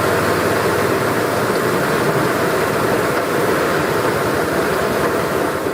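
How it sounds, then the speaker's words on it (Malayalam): Heavy monsoon rain driven by wind in Kannur district, a steady, dense roar that fills the whole stretch without a break. "ശക്തമായ മഴയും കാറ്റും കണ്ണൂർ ജില്ലയിൽ തുടരുകയാണ്"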